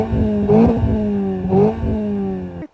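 A Renault Twingo RS 133 fitted with a Scorpion exhaust revs hard twice, each burst rising into a loud raspy note before settling back to a strong idle, close by and alone.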